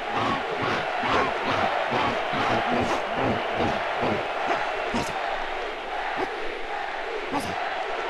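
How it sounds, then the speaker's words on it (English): A video game crowd (Conker's Bad Fur Day) roars and cheers continuously for a dinosaur, a dense wall of shouting voices with rhythmic chant-like pulses, loud and sustained. "They're all cheering for the dinosaur,"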